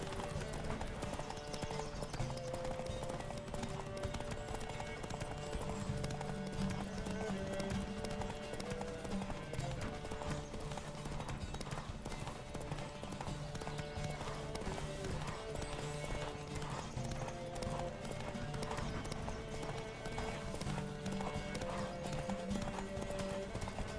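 Rapid, rhythmic hoofbeats of a galloping horse in The Witcher 3: Wild Hunt pound continuously over a dense layer of music, with an occasional whinny.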